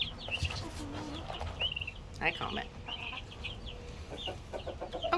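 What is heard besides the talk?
black and white turkeys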